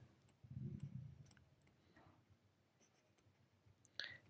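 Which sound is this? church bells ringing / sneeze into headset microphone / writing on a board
writing on a board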